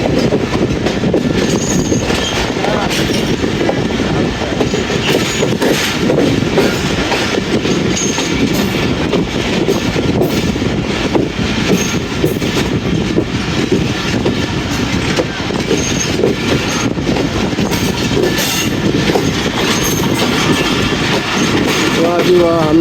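Jaffar Express passenger train rolling into Lala Musa Junction platform, with continuous low rumble, rhythmic wheel clatter and faint squeals, close and steady throughout, with some talk mixed in.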